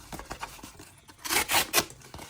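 A small fixed-blade EDC knife slices through cardboard in quick rasping strokes, a series of short scraping cuts building to a few louder tearing pulls, close by and alone.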